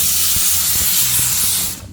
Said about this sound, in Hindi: तो हमारे कुकर में 1 सीटी आ गई है दाल की